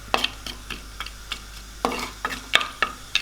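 Whole garam masala spices fry in hot oil in a kadai, giving soft intermittent sizzles and sharp little crackles and taps of stirring, fairly quiet and close.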